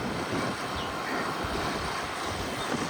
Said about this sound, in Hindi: ठंडी ठंडी हवा चल रही है।